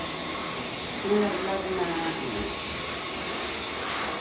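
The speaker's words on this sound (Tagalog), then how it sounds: "Medyo mag-iingay muna ako. Ha? Siyempre, i-vacuum na natin yung" Vacuum cleaner running while cleaning a household ceiling fan, a steady broadband whooshing drone at moderate level that holds throughout, with someone speaking briefly over it.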